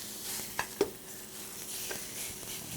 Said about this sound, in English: I want to get it nice and hot so I can sear this meat and seal it really good.